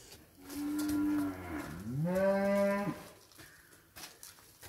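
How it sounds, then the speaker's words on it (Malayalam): A cow on a rural Kerala lane gives two long, loud moos back to back, the second rising and more strained, with a quiet outdoor background between them and no talking. "500 മീറ്റർ അകലെയുള്ള ഏലായിൽ പശുവിനെ കൊണ്ടുപോകുന്നതും വരുന്നതും ഒക്കെ ജോമോനാണ്."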